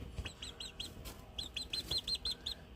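Pet chickens chirp in a quick series of high, bright tweets, a few early calls then a steadier run of about ten close chirps with no talking.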